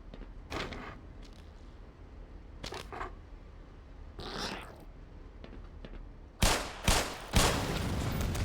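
Gunshots in the video game Black Mesa, with a few sharp cracks scattered early, then a louder cluster of three or four shots near the end, close and with no talking.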